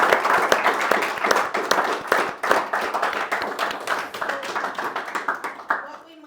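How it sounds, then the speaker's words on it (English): An audience claps steadily and loudly after a guest speaker's talk at a peace and justice event, dense applause continuing for several seconds before quickly fading at the end. "Can we get a big round of applause?"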